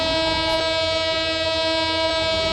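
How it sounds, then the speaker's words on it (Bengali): Locomotive 2614 sounds a long, steady horn whistle at departure, a loud sustained multi-tone blast running unbroken through the whole moment with no voices. "আমি একটা লম্বা হুইসেল দিই"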